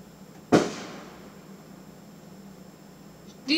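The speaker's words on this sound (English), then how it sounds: "These fireworks have been going on for about 7 days" One firework bangs outside with a sharp crack and a long fading tail, and a second burst starts at the very end. Both sound muffled and moderately distant over a steady hiss.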